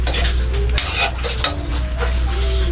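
Food is stirred in a sizzling cooking pan at close range, with a spoon scraping and clinking against the metal in irregular strokes over a constant frying hiss.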